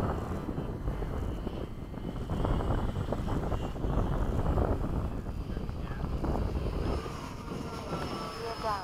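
Remote-controlled model F/A-18 jet flying at a Bayside field: a steady, fairly loud turbine roar with wind buffeting, swelling briefly as it passes and then easing off under a rising whine.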